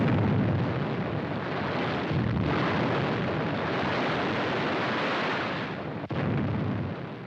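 Fish oil storage tanks blowing up during a wartime raid in occupied Norway: a sustained, loud roaring blast and rumble that holds steady for several seconds, with a brief dip before the roar swells again.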